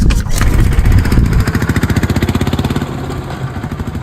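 An auto rickshaw engine runs close by, loud and rough, with a rapid pulsing putter that steadies into an even idle-like chug, no speech over it.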